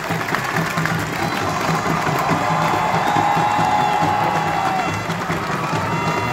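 A crowd at the Royal Edinburgh Military Tattoo cheers and whoops in a sustained, loud outdoor roar that holds steady from start to finish.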